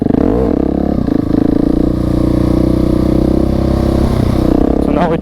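Motorcycle ridden close up, engine revving with rising and falling pitch and some rattling clatter, loud and continuous throughout.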